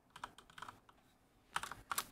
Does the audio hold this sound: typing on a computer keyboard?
yes